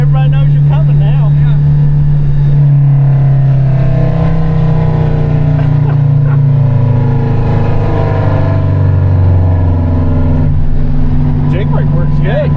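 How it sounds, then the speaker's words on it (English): Custom M1070 HET heavy truck with working exhaust stacks using its Jake brake: a loud, deep, sustained engine-braking drone that shifts pitch as the truck slows, close by, with people talking over it. "Jake brake works good."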